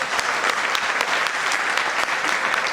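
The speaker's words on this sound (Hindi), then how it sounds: "और जोरदार तालियां" Loud, dense applause fills the room from an audience at a training talk, steady and sustained with no voices cutting through.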